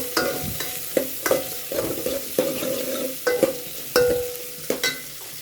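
Onions sauté in a pan for a tomato curry, a crackling sizzle punctuated by regular sharp spatula knocks and scrapes about once every half second to second, close and fairly loud, with nobody speaking.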